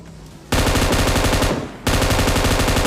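Automatic gunfire in PUBG rattles out in two loud, rapid sustained bursts at close range, with a brief pause between them and no talk over it.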